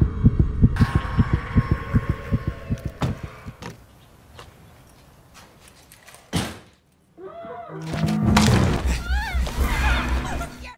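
An unborn baby's heartbeat in the horror film The Other throbs as a steady, loud, deep pulsing for several seconds, then gives way to thuds, a brief silence and a swelling dramatic soundtrack, with no speech.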